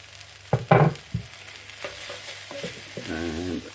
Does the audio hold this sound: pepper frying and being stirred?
yes